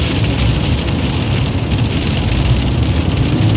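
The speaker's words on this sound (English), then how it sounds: "Here we go again, starting to rain again, hard." Hard rain beats down on a campsite, a loud, dense and unbroken roar of drops hitting surfaces at close range, with no voices over it.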